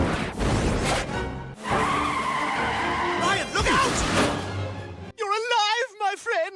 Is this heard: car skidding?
yes